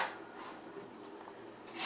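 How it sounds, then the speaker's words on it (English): Cauliflower is chopped into smaller florets, a few quiet muffled knife cuts ending in one sharper, louder chop against the board. "Now I'm going to get all that cauliflower to smaller pieces, smaller flowerets"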